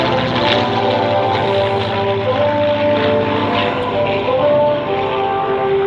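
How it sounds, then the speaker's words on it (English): A Supermarine Spitfire and a CAC CA-18 Mk.23 Mustang at the Australian International Airshow, their Merlin piston engines roaring loud and steady with a rich throbbing drone and slowly shifting pitch as they pass. "I'll just let you listen to these engines again,"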